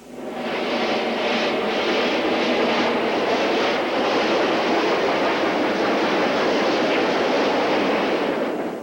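A 0-6-0 fireless steam locomotive exchanging cars with a consolidation locomotive on a Southern shortline railroad, heard as a loud, steady, continuous rumble and hiss of moving rail equipment throughout, with no voices.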